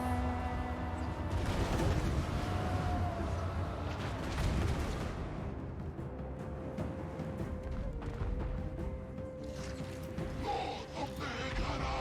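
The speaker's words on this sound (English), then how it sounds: "probably best to shoot those cannons." Booming cannon artillery volleys in a strategy battle game roll out across a dense, continuous wash of battlefield noise, with heavy low thuds and crackling blasts blending into the din throughout.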